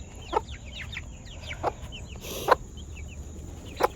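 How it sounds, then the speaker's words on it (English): A hen clucks softly a few times amid a chorus of high peeping chicks, close by and fairly quiet. "hear her clucking"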